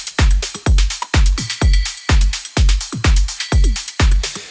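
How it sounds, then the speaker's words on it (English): Punchy compressed drum loop from a progressive house remix of a 90s trance track, a loud steady four-on-the-floor kick with crisp hats and percussion hits, alone without talk. "drums sound like this"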